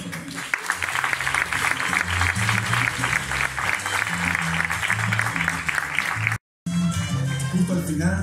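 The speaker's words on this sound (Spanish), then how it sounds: "Le damos el aplauso también." Sustained applause from an audience at the Maxoarte 2017 awards ceremony, a dense steady patter of clapping that runs throughout with a brief cut near the end, with music underneath.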